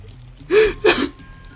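A water strike weapon in the Worms Revolution video game releases two quick whooshing gushes of pouring, splashing water, loud and close over a low background hum.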